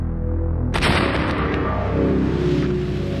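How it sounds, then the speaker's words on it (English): A single massive explosion of the Krakatoa volcano breaks out of a low rumble with a sudden, violent blast, then a loud, sustained roaring boom that fills the rest of the moment. "Then at 2 minutes past 10, a single massive explosion."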